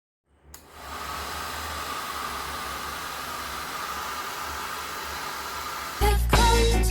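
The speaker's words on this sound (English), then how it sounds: "I got this hair dryer hood from Clicks a couple of years ago." A hooded hair dryer switches on and runs with a steady, loud whooshing blower roar and low hum, holding constant after a short silence, then a brief louder burst of sound near the end.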